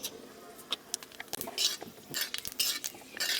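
Dried red chillies and five-spice seeds tempering in mustard oil in a kadai, stirred with a utensil: scattered scraping clinks and short bursts of crackling sizzle, close and moderately loud, with no voices.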